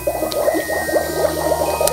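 Liquid bubbles and fizzes inside a Magic Mixies toy cauldron, a steady close gurgling froth with small pops running throughout, no talking over it.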